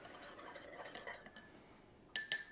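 Spoon stirring French press coffee with a splash of half and half in a cup, light scraping swirls followed by two sharp bright clinks against the rim near the end, close and quiet.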